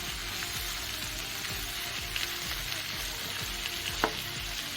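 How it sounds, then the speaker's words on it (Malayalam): Ivy gourd (kovakka) frying in oil on a low flame, steady soft sizzle with repeated scraping stirs of a spatula every half second or so, a couple of sharper clinks near the end, no talking. "നല്ലപോലെ ഇളക്കി ലോ ഫ്ലെയിമിലായിട്ട് മൂപ്പിച്ചെടുക്കണം"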